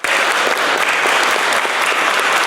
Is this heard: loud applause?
yes